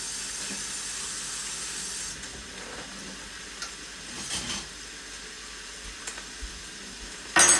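Meat sauteing and browning in a pan gives a steady close hiss and sizzle, with a few soft clatters of stirring and a sharp clank at the very end.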